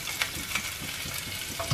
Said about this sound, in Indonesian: Kita tumis sampai kekuningan